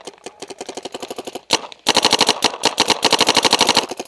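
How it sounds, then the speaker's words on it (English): Rapid, evenly spaced gunshots fire in long automatic bursts, loud and close, with a brief pause before a second, louder burst. "I just shot a pin ball right out the air."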